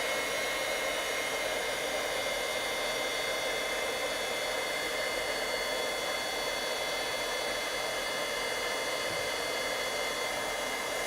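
A heat tool blows a steady, loud, even rush of air for about eleven seconds while warming silver, with no pauses and no talk.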